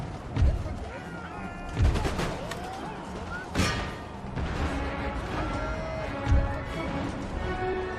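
Musket and cannon fire in Empire: Total War, with scattered volleys and a few heavy low booms over steady battle noise and music, and a voice talking over it.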